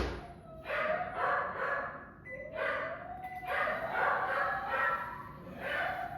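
Pet dogs in a house bark and howl together while a neighbour's dog is walked past. Their voices rise into long wavering howls that last several seconds, with short pauses between them. They sound moderately near and fairly quiet.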